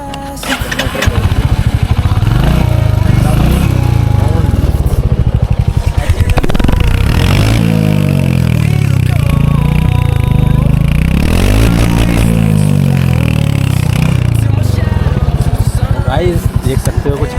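Royal Enfield Hunter 350 motorcycle engine running close by, a loud continuous thumping rumble that rises and falls with the throttle, with someone talking over it.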